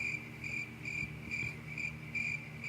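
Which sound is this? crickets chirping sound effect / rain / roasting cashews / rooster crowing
crickets chirping sound effect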